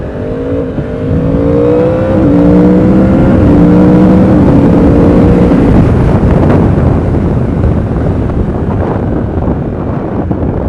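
A 2016 Yamaha R1 60th Anniversary motorcycle with a quick shifter revs and climbs through gears while riding, its engine note rising in steps beneath heavy wind roar that dominates once speed builds.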